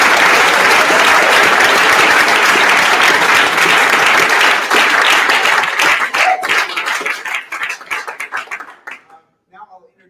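An audience at a Founders Day event gives donors a round of applause, dense sustained clapping for several seconds that thins into scattered claps before ending in near silence.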